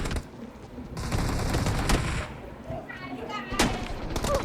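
Video game gunfire, including an AWM sniper rifle, with sharp bursts and single loud shots amid a busy battle soundscape, while a player talks over the action.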